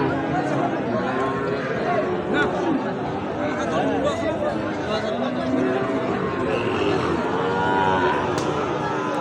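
Sahiwal bull calves moo repeatedly at a crowded rural cattle market. Their calls blend with dense crowd chatter, and people talk nearby throughout.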